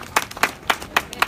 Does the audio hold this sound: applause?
yes